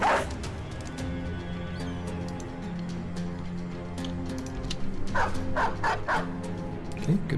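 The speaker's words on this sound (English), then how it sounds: "Okay, goodbye, Mr. Dog." Dog barking in a video game, repeated close woofs and yips in uneven bursts over a droning background of game music and ambience.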